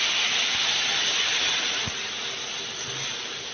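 Chicken frying in butter in a pan for pasta with white sauce, a steady close sizzling hiss with a few faint clicks, easing slightly partway through.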